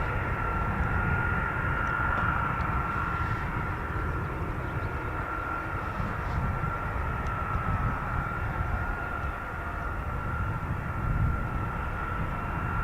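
Boeing KC-135 tanker at an RAF air base, its engines roaring steadily at takeoff power, a broad continuous rumble with a faint tonal whine held throughout.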